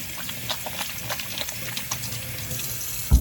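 Steady water streams from a faucet into a sink, a constant close splashing hiss with a small knock at the end.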